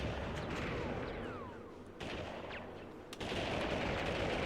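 Bursts of enemy gunfire crackle through a retro first-person shooter video game, rapid repeated shots with a few sharper reports standing out against a busy, steady game soundscape.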